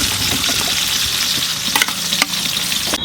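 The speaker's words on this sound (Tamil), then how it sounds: "வெங்காயம் நல்லா பொன்னிறமாக வதங்கிக்கிட்டு இருக்கு" Large chopped onions, about 900 grams, sizzle and fry in a pan for mutton biryani, a steady close crackle with a few sharp scrapes of a stirring spoon.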